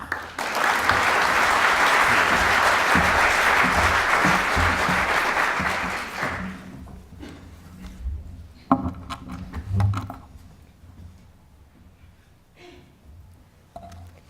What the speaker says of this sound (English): I would like to invite Anna MacDonald with a warm round of applause to take the floor.